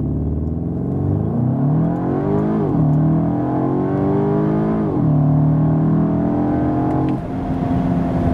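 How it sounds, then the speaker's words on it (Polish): A Cupra Terramar VZ with the 2.0 TSI 265 hp engine pulls hard from a standstill to 100 km/h. Its engine note climbs steadily, then drops at three distinct gear changes before rising again, loud and continuous throughout. "Tak samochód z tą jednostką przyspiesza od 0 do setki."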